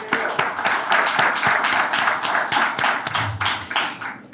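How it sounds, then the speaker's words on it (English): An audience at a chamber of commerce mixer claps loudly and continuously in dense, overlapping applause that carries from start to finish. "I want to make sure that Ed gets a huge round of applause and his staff."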